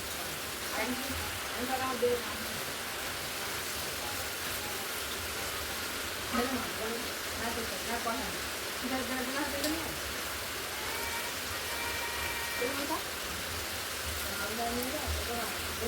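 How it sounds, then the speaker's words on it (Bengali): Fish frying in a pan for a fish curry in a home kitchen, a steady soft sizzle and crackle throughout with occasional voices talking faintly nearby. "এইদিকে মাছের তরকারির জন্য মাছ ভাজতে বসিয়ে দিয়েছে"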